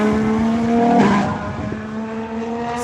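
A prototype Formula 1 race car engine screams with a steady high-pitched tone, loud and sustained, with a brief surge in the middle.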